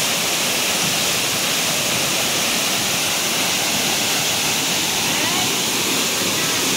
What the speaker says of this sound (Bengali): ঝর্ণার একদম নিচের দিকটা,